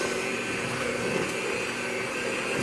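An electric mixer whirs steadily through white chocolate brownie batter, a constant close motor hum with no talking.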